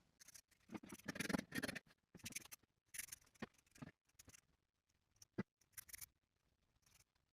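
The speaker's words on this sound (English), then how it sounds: "Now I'll trim those seam allowances in the portions I've sewn." Scissors trim fabric seam allowances on a sewn top in short clusters of crisp snips and rustles, close and quiet, with pauses between cuts.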